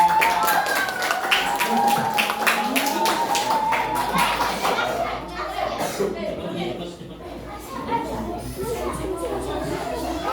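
Classmates clap for a group after its discussion, with lively applause over the first five seconds that thins out into scattered taps, chuckles and chatter.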